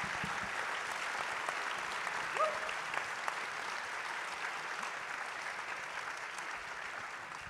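Festival audience applauding after a film screening ahead of a Q&A, sustained even clapping from a large crowd, moderately distant, with a brief faint voice rising under it midway.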